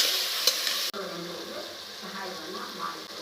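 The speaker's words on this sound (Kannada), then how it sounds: "ಇದೆಲ್ಲ ಮಿಕ್ಸ್ ಮಾಡ್ಕೊಳ್ಳೋಣ" Green Hyderabadi hara biryani ingredients are stirred and mixed in a frying pan: a bright sizzle that drops sharply, then softer scraping and gentle frying continue.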